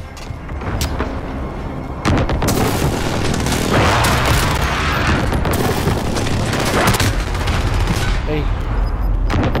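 Explosive booms from an airstrike crash through sustained gunfire on a Call of Duty: Modern Warfare (2019) online multiplayer map, loud and dense, swelling after the first two seconds with brief game voice callouts mixed in.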